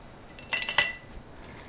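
Glass canning jars being packed with pickled peppers give off a short cluster of bright clinks and knocks, close by and fairly crisp, with one more faint tap after a pause.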